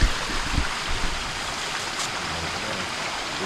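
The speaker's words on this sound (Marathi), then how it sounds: "समोर मस्त धबधबा चालू झालाय." A waterfall flows steadily nearby in the rain at a riverside fishing spot in Khed, a continuous broadband rush of water with a few faint bumps early on.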